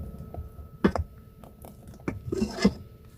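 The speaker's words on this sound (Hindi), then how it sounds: "इसमें चम्मच लाजमी चलाते रहें कहीं लग ना जाए पेंदे में" A spoon scrapes and taps against a pot while custard for lab-e-shireen is stirred on the stove, giving a few soft, irregular clinks and scrapes that are fairly quiet and close.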